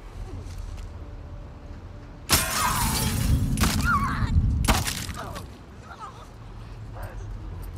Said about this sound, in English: I'm gonna have to break the glass